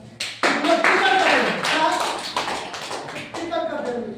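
A seminar audience claps in a dense, steady burst that rises quickly, holds, and then thins toward the end, with a voice speaking over it.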